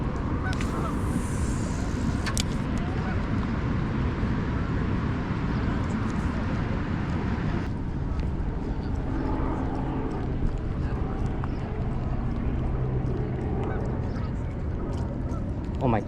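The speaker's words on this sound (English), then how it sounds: "These dang seagulls are gonna be a real problem." Seagulls call over a Chicago waterfront during a smallmouth bass fishing outing, their honking cries repeating amid steady wind and water noise, with people talking nearby.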